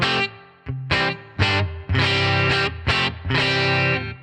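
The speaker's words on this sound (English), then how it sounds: "Here's the spring reverb that's been on the Headrush for years" An electric guitar played through the long-standing spring reverb on a Headrush unit, several chords and notes in choppy bursts, each leaving a short springy tail. No one talks.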